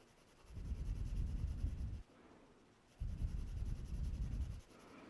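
A pencil shades a value scale on paper in two quiet, close bursts of dry scratchy strokes, each lasting about a second and a half, with a short pause between them.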